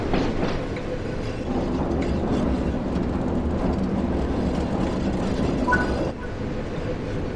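Train wheels clacking over rail joints in a train simulator game set on Blackpool branch lines, a steady loud rolling rumble with rhythmic clickety-clack beats throughout and a brief squeal near the end.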